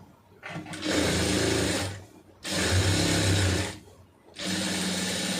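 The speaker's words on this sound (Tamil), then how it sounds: "இது தைக்கிறதுக்கு காலிஞ்சி தள்ளியே தையல் போட்டுருங்க" Sewing machine stitching a large sleeve in a tailoring session, running in three loud sustained bursts with short pauses between, close up and alone.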